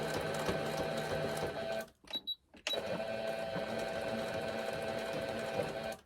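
A sewing machine stitches an apron waistband with a continuous close whirring run, briefly stopping and then restarting as a short reverse bit is sewn, with no talking.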